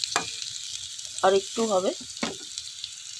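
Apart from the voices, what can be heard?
potatoes and onions frying in pan without water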